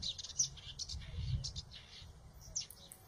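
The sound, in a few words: compiled songbird calls for training birds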